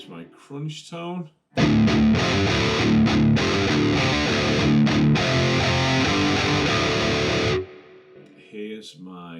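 An electric guitar with a gritty crunch tone from a Quad Cortex modeler strums chords for several seconds, loud and full, bracketed by someone speaking before and after.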